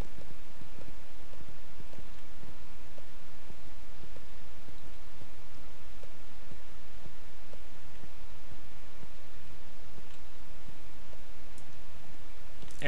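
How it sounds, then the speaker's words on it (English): Rapid, steady hoofbeats of a galloping horse in a video game (Riders of Rohan) patter continuously under a faint hiss, even in rhythm and moderately quiet, with no voices. "I'm actually at a full-on gallop right now"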